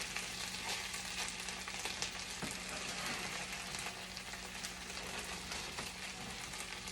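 Shredded potatoes with a little onion and pepper fry as hash browns in a hot pan. A dense, continuous sizzle crackles at an even level, with small pops scattered throughout.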